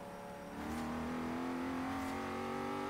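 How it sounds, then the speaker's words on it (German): A car in the racing game Forza Horizon 3 revs hard under acceleration, its engine note jumping up loud after a brief quieter start and then holding a sustained, rising drone, with no talk over it. "Da gebe ich nochmal Gas."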